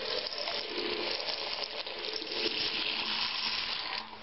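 Water gushes steadily from a repaired bathroom mixer tap, a loud, even hiss of running water that eases slightly at the very end.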